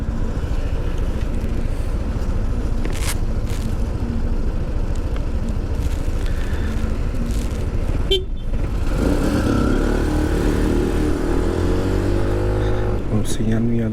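A Yamaha N Max 155 scooter rides through town traffic in Manavgat, its steady engine drone and wind rush continuous with passing cars and a brief horn, while someone talks over the ride.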